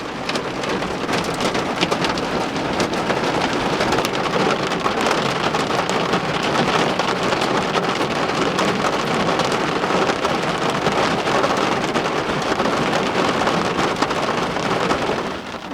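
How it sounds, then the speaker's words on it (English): Rain and hail pour down in Golden, Colorado, making a dense, constant hiss and patter on nearby surfaces that holds steady throughout with no voices. "it feels like the rain and the hail is starting to die down a little bit"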